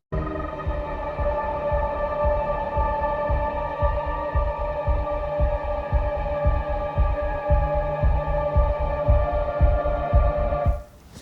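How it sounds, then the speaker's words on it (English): A filtered bass pulse in video game music beats steadily like a heartbeat, repeating evenly for about ten seconds beneath a sustained tonal drone before cutting off abruptly at the end. "We have a bass pulse that is resembling our heartbeat."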